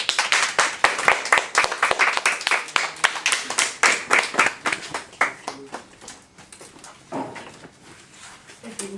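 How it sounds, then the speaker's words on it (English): Applause from a modest audience at a sword-fighting display at Fort Rinella in Malta, a burst of clapping that gradually thins out and fades toward the end. "I guess they deserve a good round of applause for encouragement."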